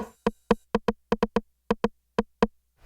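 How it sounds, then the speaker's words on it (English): Eleven sharp, clicky Roland 909 rim shot hits in an uneven pattern, each short and woody with a bright snap, played alone with nothing between them. "so the 909 rim shot sounds like this"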